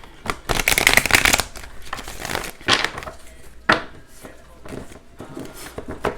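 Tarot cards are shuffled in several quick riffling bursts, close and crisp, with softer handling noises between them.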